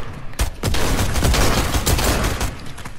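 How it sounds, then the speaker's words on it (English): A Fortnite weapon fires loud, rapid shots in a dense burst lasting a couple of seconds, with heavy low-end thumps and no voices over it. "Shot the whole damn staircase."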